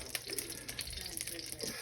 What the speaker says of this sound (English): fry them up like this for the first 5 minutes